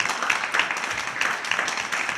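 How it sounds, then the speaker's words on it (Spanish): Audience applauding a performer at a live concert, dense steady clapping with a few louder pulses, fairly close and filling the whole stretch. "fuerte aplauso para Lucía"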